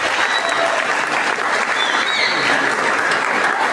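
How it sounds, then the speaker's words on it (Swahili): A church congregation applauds, dense and continuous clapping filling the room at an even level from start to finish, with no talk over it. "Pigia Bwana Yesu makofi mazuri."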